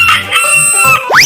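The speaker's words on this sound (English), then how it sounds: "Chicken." A cartoon chicken clucks and crows in a short, loud burst ending in a rising squawk, heard alone without speech.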